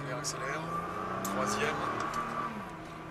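A Nissan GT-R accelerates on a race track, its engine note climbing through the revs from inside the car, moderately loud, while an instructor talks over it in French.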